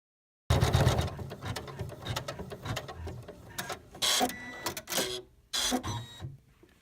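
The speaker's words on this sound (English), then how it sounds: "this step is just stitching a very small zigzag to hold" A computerized embroidery machine sews small zigzag tack-down stitches on quilt blocks, giving a steady, fast mechanical rattle and whir with several brief louder bursts and short pauses.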